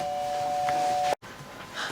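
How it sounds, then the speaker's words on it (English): A doorbell at a home rings with a steady sustained electronic tone for about a second before cutting off abruptly, followed by quiet room noise. "the doorbell. It always seems to ring when I'm making videos"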